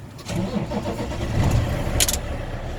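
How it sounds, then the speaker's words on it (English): A truck's diesel engine cranks and catches during a safe-start check with the clutch pressed in neutral, settling into a steady, close, loud rumble for about three seconds with no talking. "I'm going to press the clutch in and I'm going to start the engine"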